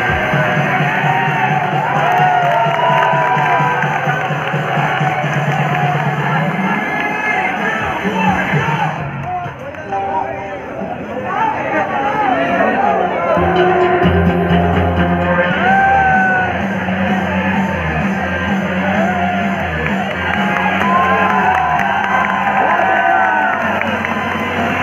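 A crowd at a Sahawar gym bodybuilding show cheers, whoops and shouts loudly and continuously for posing bodybuilders, a dense roar that dips briefly in the middle before swelling again, with voices mixed in.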